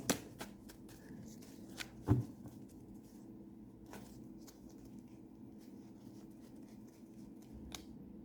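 Fortune-telling cards handled and shuffled close by, a few sharp snaps early on, then sparse light papery flicks over a quiet room with no talking.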